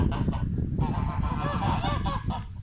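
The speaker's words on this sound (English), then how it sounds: "Here are the geese." Canada geese honk in a dense, overlapping chorus close by on a Devon farm, a steady flock clamour lasting the whole stretch with no talk over it.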